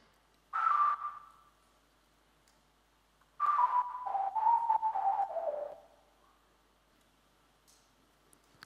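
A synthesized whistle lead from a plugin plays two gliding tonal phrases, a short note followed by a longer sliding run, clear and alone against silence.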